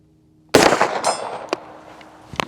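A single sharp 9mm shot from a Daniel Defense DD PCC 916 carbine with a 16-inch barrel at a 100-yard outdoor range, loud and close, ringing out into a decaying tail, followed by a few fainter clanks and taps.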